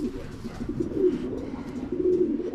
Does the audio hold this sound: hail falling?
no